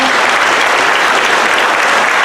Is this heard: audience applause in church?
yes